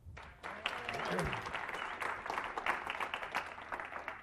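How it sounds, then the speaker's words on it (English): An audience claps in sustained applause, a dense crackle of many hands that swells quickly and carries on evenly. "If I get a nice big round of applause"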